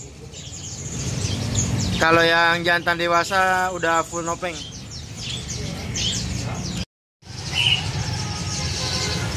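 Caged birds chirp and trill at the Abadi bird market in Palmerah, a busy chorus with a burst of repeated loud calls, while someone talks over the market din.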